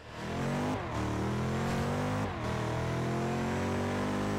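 A hypercar in Forza Horizon 2 holds its engine above 5000 rpm in gear, a loud sustained high-pitched rev with brief dips at gear changes, close and continuous with no talk.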